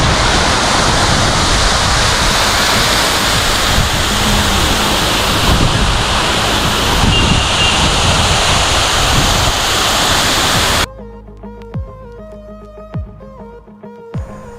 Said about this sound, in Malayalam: ഭയങ്കര ഹൈറ്റിൽ നിന്ന് വളരെ ചെറിയ രീതിയിൽ വെള്ളം ചാടുന്നത്